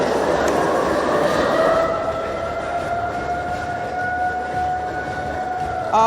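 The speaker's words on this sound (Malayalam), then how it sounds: "രാജ്യമെമ്പാടും ഒരുമിച്ച് സൈറൺ മുഴങ്ങിയിരിക്കുന്നു." A loud civil defense siren sounds during a nationwide mock drill, a sustained wailing tone that drifts slightly in pitch, with a short burst of a different noise at the very end.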